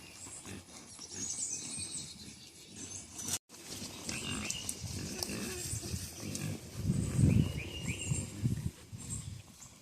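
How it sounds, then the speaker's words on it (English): Homestead pigs grunt and squeal in a busy, rough jumble at close range, with snuffling and rustling throughout and a brief dropout partway through. "Crazy pigs."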